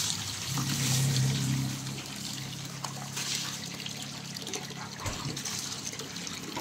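Natural water trickles and flows steadily, fairly quiet, with a brief heavier gush near the start and a low rumble underneath.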